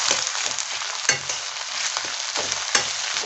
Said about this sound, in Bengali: তেল গরম হয়ে আসলে আগে থেকেই কেটে রাখা পেঁয়াজ, রসুন, আদা গুলিকে তেলের মধ্যে দিয়ে হালকা একটু ভেজে নিতে হবে।